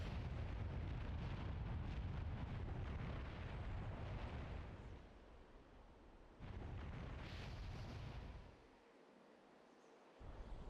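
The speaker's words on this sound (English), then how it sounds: "Shoot your fire pillar." Fire pillar attack in The Legend of Zelda: The Wind Waker HD, a loud, sustained roaring eruption of flame lasting several seconds, easing briefly then flaring again before cutting off.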